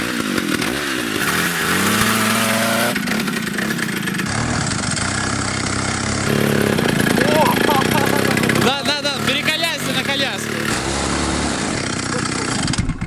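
A chainsaw-engine bike buzzes loudly as it is ridden, the small two-stroke motor droning and revving up and down, with a voice talking over it.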